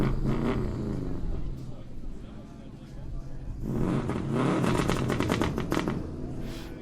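Brand-new Subaru rally car engine firing up and revving at a Sno*Drift rally podium, loud raspy bursts of throttle with crackling exhaust, under someone talking and crowd noise.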